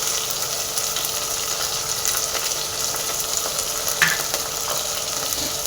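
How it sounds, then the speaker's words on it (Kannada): Mint and coriander leaves frying in a pan for pulao, giving a constant close hiss and sizzle with faint stirring scrapes, no one speaking. "ಇದನ್ನೂ ಅಷ್ಟೇ ನೀಟಾಗಿ ಫ್ರೈ ಮಾಡ್ಕೋಬೇಕಾಗುತ್ತೆ ನಾವು"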